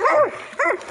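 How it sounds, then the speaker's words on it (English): A hunting dog gives two sharp, high yelping barks about half a second apart during a hog hunt, loud and close. "Watch out for the dog."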